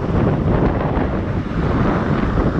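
Wind blows across the microphone on an outdoor Saigon street under a grey sky, a steady close rumbling buffet filling the whole moment with no voices.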